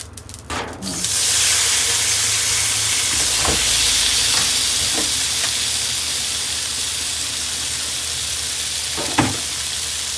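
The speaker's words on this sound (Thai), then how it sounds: "เอามะเขือลงเลยเนาะ มะเขือที่เรา ทอดเอาไว้นะคะ" Pieces of already fried eggplant drop into a hot wok with a quick clatter and burst into a loud, steady sizzle and hiss, with a few faint scrapes of stirring.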